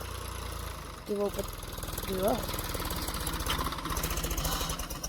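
A tractor engine runs under load while ploughing a farm field, a steady close rumbling drone with a rhythmic low thumping throughout, and someone speaks briefly over it.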